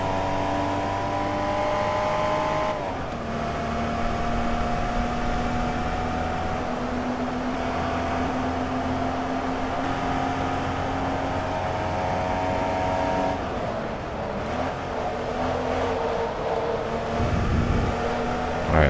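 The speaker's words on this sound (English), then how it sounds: "just make it through this turn without going very wide and sliding the shit out of the car." Porsche 914/6 race car in the Forza Motorsport 2 racing game, its engine droning and revving steadily throughout with rising and falling pitch through gear changes, loud and continuous with a brief shift near three seconds.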